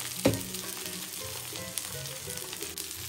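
Okra pieces fry in coconut oil with a steady, close hiss, broken early on by one sharp clatter of a utensil against the pan.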